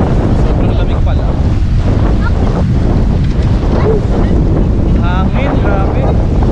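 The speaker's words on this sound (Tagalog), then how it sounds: "Hangin, grabe." Strong, cold wind roars continuously across a lake in Saskatoon during a midday fishing trip, buffeting the microphone loudly and drowning out faint water sounds, with no talking.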